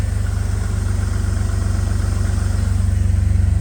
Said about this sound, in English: It's idling really nice, really nice.